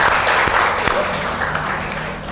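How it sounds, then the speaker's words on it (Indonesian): Applause rises from an audience at an NU and Muhammadiyah dialogue event, a broad wash of clapping with a few distinct sharp claps, mixed with crowd murmur and a voice speaking over it. "Tepuk tangan dulu untuk perbedaan"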